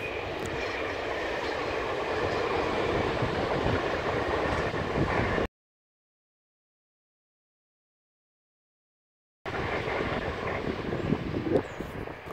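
A train rumbles past outdoors with a steady, broad roar and clatter, cut by a few seconds of complete silence before the rumble resumes.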